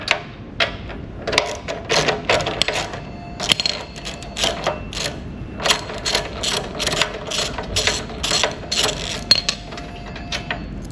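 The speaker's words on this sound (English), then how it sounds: "I'm going to loosen up these bolts" A ratchet wrench loosens bolts on a Revolution reel mower, a long run of fast, close metallic clicks in uneven bursts that carries on almost without pause.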